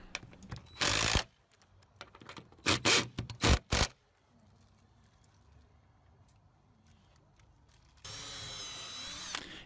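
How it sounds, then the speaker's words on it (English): A power drill pre-drills cedar fence pickets on a 6-foot cedar fence gate, with several short loud bursts of drilling up close, a quieter pause, then a longer steady run of the drill at the end. "I like to pre-drill a little bit here just so that I don't split the pickets."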